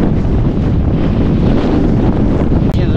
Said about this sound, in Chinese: 今天推车又有风了，难搞了。